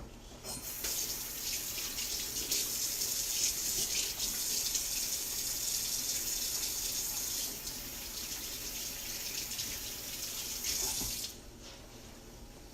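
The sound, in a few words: washing hands under running sink tap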